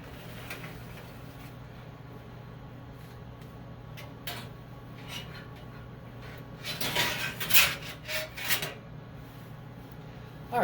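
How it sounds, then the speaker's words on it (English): A veterinary autoclave is opened and its sterilized instrument tray is pulled out, giving soft metallic clunks and clattering rattles that build to a burst of clinks toward the end, fairly close, under a low steady hum. "So we are going to open the autoclave and just take our pack out."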